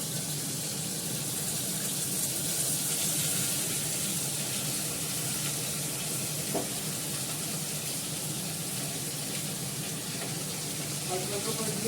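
Potatoes fry in a pan for a vegetarian dish, giving a continuous, even sizzle with a faint crackle. It holds at a steady level for the whole stretch.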